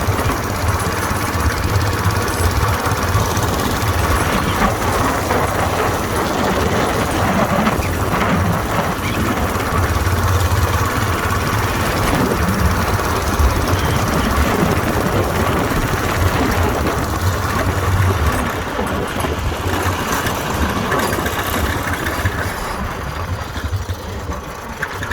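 A Whizzer motorbike engine runs steadily in third gear against a little wind, a continuous, loud buzzing drone that holds for the whole stretch and eases slightly near the end.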